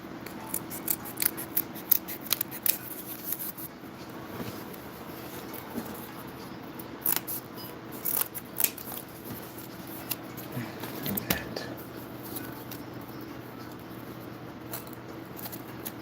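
Scissors trim cardboard for a model medieval village, making quick, scattered snips in short bursts with pauses between them. The cuts are close and fairly quiet.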